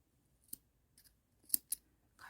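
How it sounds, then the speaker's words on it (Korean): Scissors snip through leftover yarn after a crocheted watermelon pot holder is finished, giving a few quiet, crisp cuts spaced apart with silence between them. "가위로 잘라주세요."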